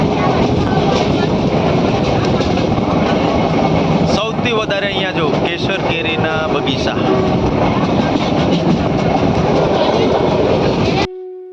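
A passenger train on the Gir Gadhada to Sasan Gir line rumbles loudly and steadily along the rails for most of its length while someone talks over the noise.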